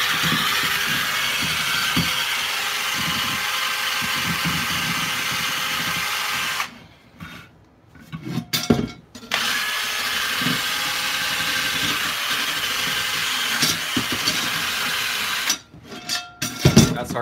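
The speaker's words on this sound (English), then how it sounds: "Hard to get because the drill keeps on spinning out of my hand" A power drill spins against a Dutch oven during seasoning, making a loud, continuous buzzing whir that stops twice for short pauses with clattering handling noises before starting again.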